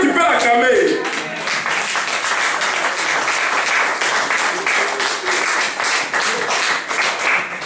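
A church congregation applauds and cheers in sustained, dense clapping after a preacher's call, steady and loud throughout, with voices mixed into the crowd noise.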